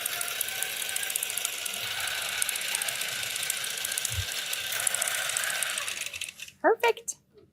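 A quilting sewing machine stitches with a rapid, fast-ticking mechanical clatter that runs steadily and then stops, followed by a person speaking.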